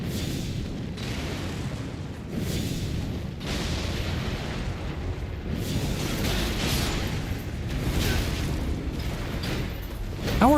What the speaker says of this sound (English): How are you alive with all those things blowing up around you?